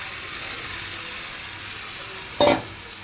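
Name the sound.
pumpkin and shrimp mixture poured into hot wok, sizzling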